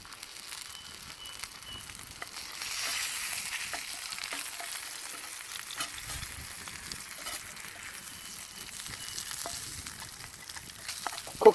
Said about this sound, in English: Cooking him a bit fast because this fire's a bit hot